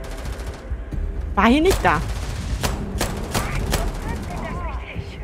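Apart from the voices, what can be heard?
gunfire in the video game Starfield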